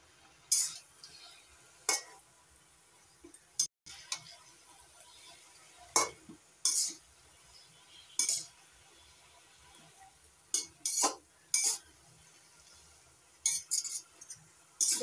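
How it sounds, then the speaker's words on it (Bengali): Taro stalks and leaves are stirred in a pot for a prawn curry, making scattered scraping clinks of a utensil against metal, with quiet pauses between them and no talking. "এবার একটু নাড়াচাড়া করে দেবো"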